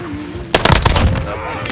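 A burst of rapid gunfire in Call of Duty Warzone cracks out close and loud, a quick run of sharp shots in an uneven rhythm, with quieter game ambience before it.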